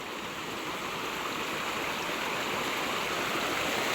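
A strong, fast-flowing creek rushes steadily and fairly faintly, giving a continuous broadband watery hiss with no breaks and no voices.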